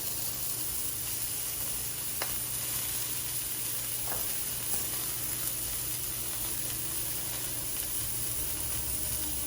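A burger patty sizzles in a frying pan with a steady, even hiss, close and continuous, and no talking over it.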